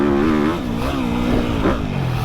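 A Yamaha 250 YZF motocross bike revving loudly and close on a dirt track, the engine note rising and dipping in quick surges over a couple of seconds.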